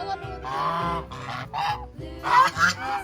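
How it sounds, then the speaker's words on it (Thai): A large flock of ducks honks in a series of close, nasal squawks that come in uneven bursts. "เป็ดก็มาใกล้ๆเลยนะครับ"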